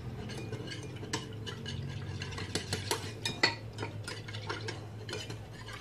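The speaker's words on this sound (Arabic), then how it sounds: "نبدا نحرك باش ما تلصقش." Large spoons stir a cream mixture in a pot for a chilled chocolate cream dessert with dried fruit, scraping and clinking against the metal in steady irregular strokes, close and moderately loud with no talking.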